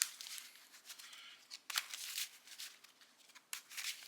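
Crisp riffling bursts of sleeved Yu-Gi-Oh trading cards being shuffled, several quick rounds separated by short pauses, close and fairly quiet.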